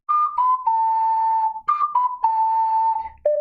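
A close ocarina plays a short Zelda melody, a clear, breathy, whistle-like line of held notes that rises and falls, with a brief pause before the phrase repeats and a final lower note.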